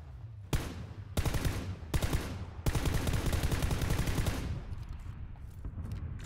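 In PUBG Battlegrounds, bursts of rapid automatic gunfire crack out in several sustained volleys, loud and close, then trail off into quieter distant echoes.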